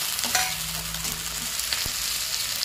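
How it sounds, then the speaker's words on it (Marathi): Boiled potatoes and green chillies fry in hot oil with a close, continuous sizzle, broken by a handful of spatula scrapes and clinks against the pan. "आता बटाटे आणि मिरची एकदम बघा असं फ्राय झाली"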